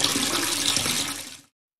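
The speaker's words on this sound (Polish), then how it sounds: "nalej wody do wanny" A tap runs water into a bathtub in a Roblox game, a steady hissing splash that lasts over a second and then cuts off abruptly into silence.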